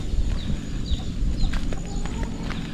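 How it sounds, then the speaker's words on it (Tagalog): Several chickens cluck and call in short, scattered bursts at a moderate distance, over a noisy outdoor background. "May mga manok."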